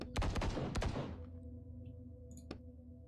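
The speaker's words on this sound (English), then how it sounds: "Did I just hear gunshots?" A rapid burst of close gunfire in The Book Walker video game, several sharp shots fired in quick succession that then cut off, followed by a lone impact and quiet room tone.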